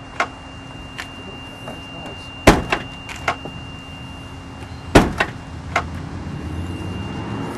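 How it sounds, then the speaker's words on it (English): A 2012 Nissan Maxima trunk lid is shut firmly twice, each a sharp close thud followed by small rattles and clicks, near and distinct over quiet background. "Let's say your wife locks the key in the trunk, Mr. Will, and you try to close it strong."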